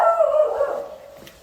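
A single dog gives a short, tonal bark-like yelp that fades over about a second, close and fairly loud, with no speech around it.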